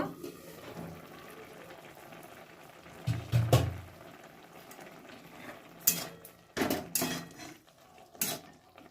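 Lid lifted off a pot of boiling chui and banana flower, with a few clanking metal knocks and rattles standing out close by over a faint bubbling background, no talk.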